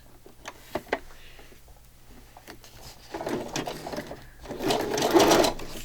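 A sewing machine stitches a Christmas file folder journal, its motor whirring in short bursts that build into a longer, louder run near the end, with light clicks and handling noises in the quieter stretch before.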